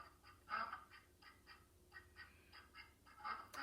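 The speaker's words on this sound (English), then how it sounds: "A duck makes the quack, quack sound." A duck quacks repeatedly in a quick irregular series of nasal calls, close and clear against a quiet background, with one louder burst near the start.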